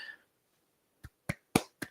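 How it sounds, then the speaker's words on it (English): A few light, sparse claps of a sarcastic golf clap, four quick soft hits spaced unevenly after a brief faint sound, in otherwise quiet surroundings. "golf clap."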